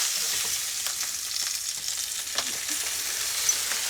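Rabbit meat sizzles steadily in hot ghee, a dense crackling hiss with occasional pops and a few soft stirring sounds, close and continuous.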